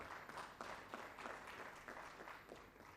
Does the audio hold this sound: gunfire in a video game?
no